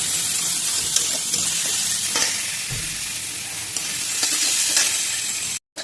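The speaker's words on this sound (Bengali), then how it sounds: "ভাজা ভাজা হয়ে এসছে যেই, এই ডাঁটাগুলো দিয়ে দিলাম।" Gourd greens stems stir-fried in hot oil with garlic, onion and dried chilli, a steady close sizzle with scraping stirs running throughout, no voices.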